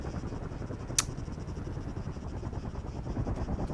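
Helicopter in the ARMA 3 video game, a steady low rotor and engine rumble running throughout with a brief sharp click near the start.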